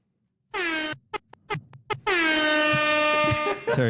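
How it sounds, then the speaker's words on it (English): A loud, blaring air horn sounds in several short blasts, then one long sustained honk that cuts off abruptly. "loves the air horn."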